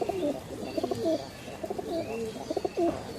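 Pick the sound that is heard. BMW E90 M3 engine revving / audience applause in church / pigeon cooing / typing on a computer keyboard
pigeon cooing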